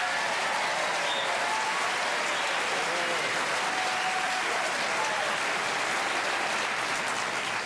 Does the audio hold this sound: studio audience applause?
yes